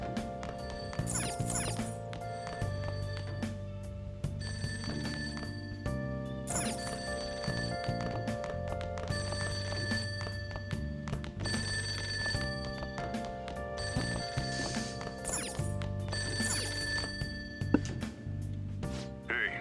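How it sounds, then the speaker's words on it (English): A telephone rings downstairs in the video game Persona 5 Royal, sounding as repeated bell-like bursts in a steady rhythm over the game's background music, loud and continuous throughout. "That ringing sound isn't coming from my cell phone."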